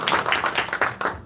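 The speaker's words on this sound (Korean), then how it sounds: "박수 주십시오." A short burst of audience clapping at a Lions Club leadership academy lecture in Korea, lively and fairly loud, with uneven pulses of hand claps.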